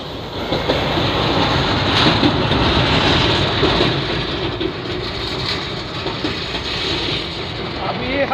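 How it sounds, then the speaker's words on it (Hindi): Inside the Koyna Express as it crosses the Krishna river bridge, a loud continuous rumble and roar of the moving train fills the carriage with a rhythmic rattling clatter, and a voice talks faintly underneath. "अभी हमारी ट्रेन क्रॉस कर रही है कृष्णा रिवर को"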